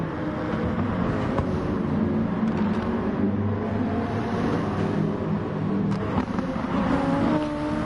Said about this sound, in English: You rarely see it in daily races, the McLaren 650S